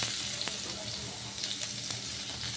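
Onions sizzle in hot oil with dried chillies in a pan for a red amaranth stir-fry, giving a steady crackling fry with small pops and clinks of stirring, close and moderately quiet.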